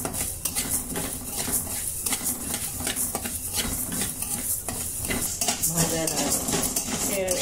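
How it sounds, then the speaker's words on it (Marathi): Coriander seeds dry-roasted in a pan while being stirred, a dense rattling patter of seeds with repeated metallic spoon scrapes against the pan, moderately quiet and steady. "सुरुवातीला आपण हे धने भाजून घेऊया, जास्त भाजायचे नाही, फक्त ते कडक झाले पाहिजे"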